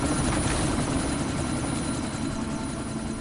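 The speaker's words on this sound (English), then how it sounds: "That chopper's about to take off!" A helicopter in the game Deus Ex: Mankind Divided, about to take off, its rotor and engine roaring loud and steady with a dense low throb throughout, no talking.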